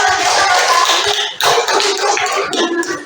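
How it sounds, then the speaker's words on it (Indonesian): Classroom students clapping together in a loud, dense burst that stays steady for about three seconds, with a brief dip midway before resuming. "sekali lagi kasih tepuk tangan buat Fahri"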